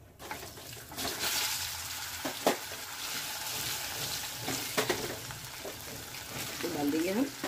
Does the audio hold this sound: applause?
no